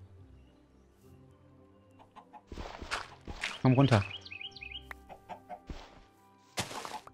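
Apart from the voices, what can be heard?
chickens clucking in video game Minecraft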